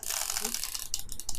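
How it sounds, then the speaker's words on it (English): The mechanical wind-on lever of a 1967 Mamiya Sekor 528TL film camera gives a close, steady ratcheting whir, heard briefly with nothing else over it. "We have our wind on lever here,"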